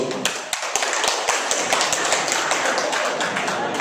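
An audience of teachers at a training session claps, sharp overlapping claps forming a steady rhythmic round of applause, close and loud.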